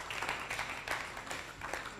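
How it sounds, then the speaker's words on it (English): A seminar audience applauds a presenter at a youth business event, producing a steady, dense patter of clapping that holds for about two seconds at moderate volume. "Please, a round of applause for him."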